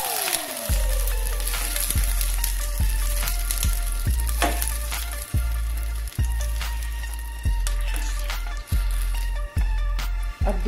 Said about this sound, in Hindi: इनको हमने हाई फ्लेम पर ही थोड़ा सा कुक करना है प्याज को